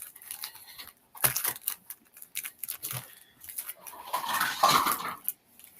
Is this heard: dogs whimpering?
yes